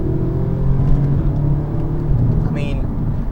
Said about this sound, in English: the way it goes up and down through the gears is just remarkable